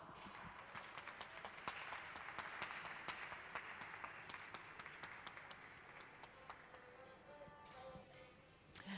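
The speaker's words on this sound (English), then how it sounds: "let's go ahead and give the team a round of applause" A live studio audience at a glassblowing demonstration applauds the visiting artist's team, a steady wash of clapping with occasional louder individual claps that holds for several seconds and then thins out.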